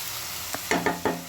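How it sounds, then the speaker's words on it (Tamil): Onions sauté in a pan with a soft background sizzle, cut by three or four quick scraping stirs of a utensil close by. "பார்த்தீங்கன்னா வெங்காயம் நல்லா வதங்க ஆரம்பிச்சிருச்சு."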